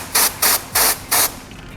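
Four short, sharp bursts of compressed air hiss out in an even rhythm, close and loud, during installation of illuminated hood decals on a Jeep JL, JK or JT.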